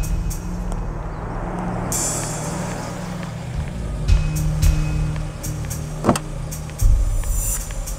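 A car pulls up at a scene in a suspense film, its engine low and steady, with a few sharp clunks and a brief hiss as it comes to a stop.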